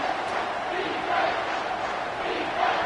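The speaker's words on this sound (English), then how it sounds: "this crowd will blow out a vocal cord to help this defense" A stadium crowd roars in NCAA 25 college football during a third-down defensive stand, a dense, steady wall of cheering that swells slightly near the end while a commentator talks over it.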